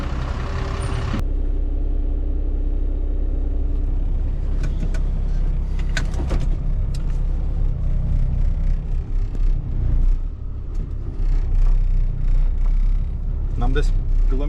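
An IVECO truck carrying a John Deere 330 sets off at night. A heavy, steady engine rumble fills the cab, broken by scattered clicks and rattles as it gets moving.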